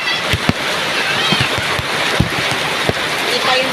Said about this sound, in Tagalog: Paano tayo makakalis kung ganito kalakas ng ulan?